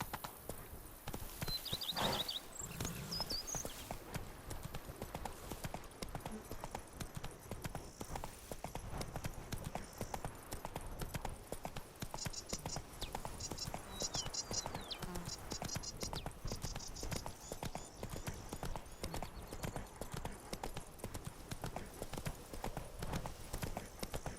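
A horse in The Witcher 3 trots along in steady hoofbeats, a continuous clip-clop under faint game ambience.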